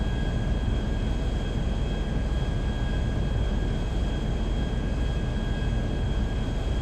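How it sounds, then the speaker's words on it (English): A DC-9-15 airliner in GTA 5 climbs out over the Alamo Sea after departing McKenzie Airfield, a steady, loud broadband jet roar with a faint high whine holding constant throughout, no voices. "And we're climbing out over the Alamo Sea on the Alamo 1 departure"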